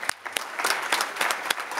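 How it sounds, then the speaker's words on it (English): An audience at a population health conference applauds, close and fairly loud, with distinct individual claps standing out in a brisk, uneven patter. "So how about a special round of applause for this special lady?"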